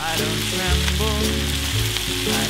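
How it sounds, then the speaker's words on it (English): Onions frying in butter and olive oil sizzle loudly up close while being stirred around, with a few scraping strokes in the pan. "Then add in all of your onions and stir around just to get them all coated in the butter and olive oil"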